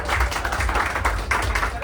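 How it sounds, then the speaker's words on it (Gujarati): Steady, dense clapping from a group fills the whole stretch evenly at moderate loudness, with no clear pauses or peaks. "તાળીઓ"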